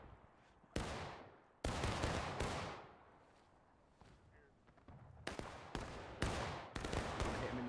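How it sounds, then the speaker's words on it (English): Musket volleys ring out in the War of Rights game during a historical rules event on the Shenandoah Street map, several loud crackling bursts with echoing decays and quieter scattered shots between them. "Now, start firing,"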